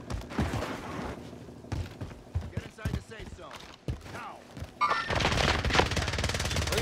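Heavy automatic gunfire from the Warzone battle royale video game, with M4A1 rifles in the fight. Bursts of shooting mix with voices talking and shouting over the action, and the firing grows denser near the end.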